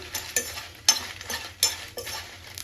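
Cumin seeds and chana dal sizzle softly in a hot pan on low heat, with a steady hiss and a few sharp scrapes and clinks as a spoon stirs them.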